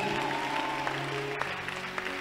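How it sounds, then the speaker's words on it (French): Continuous applause from an audience, a steady wash of clapping with a few sharper claps standing out, filling the whole moment. "I don't like the way you're clapping."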